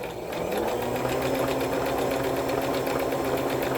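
A Brother XL-2600i sewing machine runs a blanket finishing stitch, its needle mechanism whirring in a fast steady rhythmic buzz after a short start, close and continuous.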